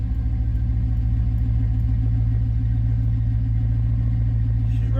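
A Chevy C10 engine idles steadily at close range, a deep, even rumble that holds constant throughout with no pauses.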